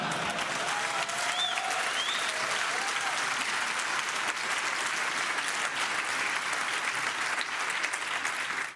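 An audience breaks into sustained applause with scattered cheering, a steady dense roar of clapping that carries on unbroken from start to finish.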